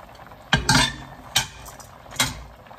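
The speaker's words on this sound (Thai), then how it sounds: "แล้วก็คนเลยค่ะ" A spoon stirs a pot of Thai curry made with cassia leaves and fried pork, knocking against the metal pot in three separate clanks with scraping in between. The sound is close and there is no talking.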